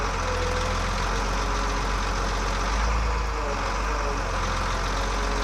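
A 2004 Volvo G710B motor grader's diesel engine runs steadily at idle, a continuous low rumble with a faint knocking texture and a brief swell near the middle.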